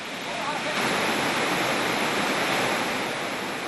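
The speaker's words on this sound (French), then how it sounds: "la cascade Tinasrine coule à longueur d'année" The Tinasrine waterfall, which flows all year round: a steady, full rush of falling water, dense and even, holding at a constant moderate level with no other sounds.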